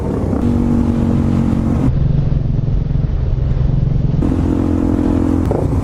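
A loud dirt bike engine drones and rumbles steadily throughout, with slight shifts in pitch as it revs, close and continuous with no talking.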